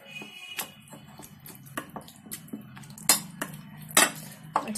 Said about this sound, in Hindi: जो इतने चने हमने निकाले हैं इसको मैश कर लेंगे